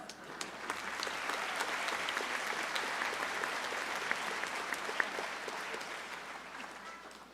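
Convocation audience applauding and cheering, a broad, even wash of clapping heard from some distance and sustained for several seconds with little change in level.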